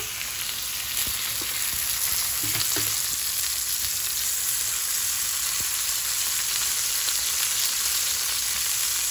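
Chopped onions fry in oil in a pan, a steady, loud sizzling hiss that runs unbroken throughout, with a few faint knocks underneath.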